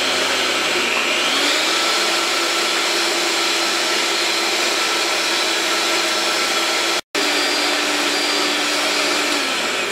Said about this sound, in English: while this is on a low speed, my hand mixer, I'm gonna add half of this sugar a little bit at a time